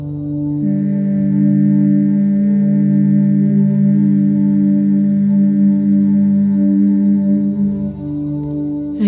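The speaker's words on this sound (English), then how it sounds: "keep your mouth closed and make a humming sound like this" A person hums steadily with the mouth closed while breathing out during a breathing meditation, one long sustained low tone lasting several seconds, close and clear with no words.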